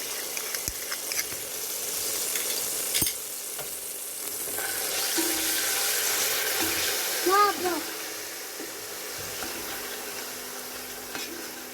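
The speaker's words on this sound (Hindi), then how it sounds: "2 टेबलस्पून ऑयल में ये 2 टेबलस्पून अदरक लहसुन का पेस्ट डालूंगी मैं।" Ginger garlic paste crackles and sizzles steadily in oil in a pan, a broad hiss that swells midway, with a few clinks of a utensil and faint talk in the background.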